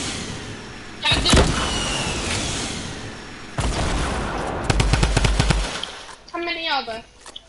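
Video game gunfire from an RPG and a drum gun comes in loud bursts, a rapid rattling run of shots in the middle, with people talking near the end.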